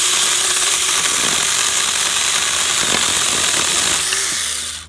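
A Saker Mini electric chainsaw cuts through 2 to 4 inch tree limbs with a loud, steady whirring buzz up close, the motor bogging slightly under load before winding down abruptly at the end, with no talking.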